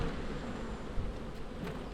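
Honeybees drone steadily from an open hive as a beekeeper works the frames, a dense, close, continuous hum with no voices.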